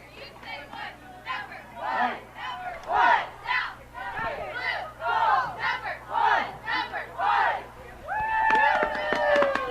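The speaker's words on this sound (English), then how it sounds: "some great cheer led by our wonderful cheerleaders down there" Crowd at a high school boys' soccer game, Olathe South against Shawnee Mission South, chanting in rhythmic call-and-response bursts led by cheerleaders, loud shouted syllables in a steady pattern, followed by higher-pitched cheering near the end.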